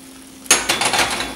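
Hot pasta sauce with milk and mozzarella is poured and stirred in a frying pan, starting with a sudden clatter and then scraping, sizzling and metallic clinks of utensil against pan.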